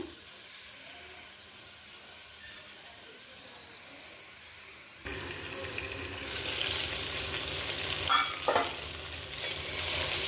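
Chopped vegetable pieces for sambar sautéing in a pan, quiet at first, then a louder steady sizzle after about five seconds with stirring scrapes on top.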